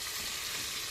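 Fish sizzles and fries in hot oil in a pan, a steady, faint, crackling hiss with no voices.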